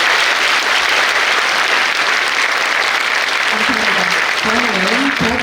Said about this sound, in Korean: 다시 한번 귀한 시간 내주신 두 분의 대장님께 큰 박수 부탁드리겠습니다